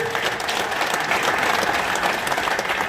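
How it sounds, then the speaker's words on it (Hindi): Steady, dense applause from a large crowd at an election campaign gathering, loud and sustained throughout with no break. "इसलिए इन सब लोगों के लिए भी एक बार आप ताली बजा दें।"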